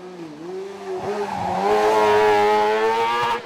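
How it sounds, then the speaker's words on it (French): A BRC CM05 prototype race car climbs a hill-climb course, its engine note rising and falling through gear changes before settling into a high, strained, steadily climbing whine. Fairly loud and close, with no voices. "au volant du proto BRC CM05 de Bruno Collard, il goûtait aux joies de la classe 15"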